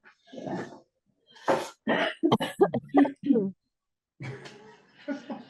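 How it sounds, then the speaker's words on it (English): A few harsh, close coughs in quick bursts, with short stretches of talking before and after. "Live coughing."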